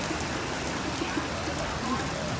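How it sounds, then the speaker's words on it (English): Steady, dense hiss of rain falling at a vineyard in Santa Fe, Texas, a continuous wash of drops on surfaces with no breaks, fairly loud and close. "Good old Texas rain."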